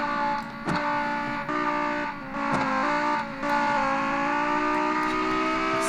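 Race car engine in a video game crossing the finish line at Road Atlanta, a loud sustained engine drone rising in pitch through several gear changes, with brief dips and clicks between shifts.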